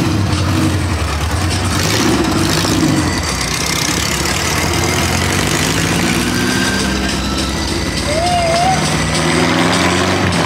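Cars idle and pull away at a Toronto car show where an RWB Porsche 912 debuts, a continuous rumble of engines with some revving, while people talk in the background.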